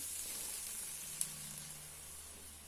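Rice frying in a pan, giving a continuous soft hiss and sizzle with one small sharp tick partway through.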